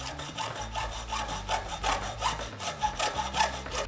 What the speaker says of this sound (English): Probably don't use a rusty hacksaw blade when you do that.